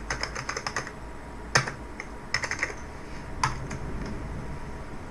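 Typing on a computer keyboard while entering text into a LibreOffice Writer document, a quick run of close key clicks followed by scattered single taps and a few sharper keystrokes, no talk.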